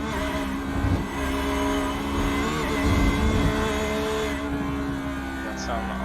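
Porsche GT3 race car in the iRacing sim at Watkins Glen, engine screaming at high revs in a steady loud drone with shifting pitch, tire noise mixed in, under a commentator's voice.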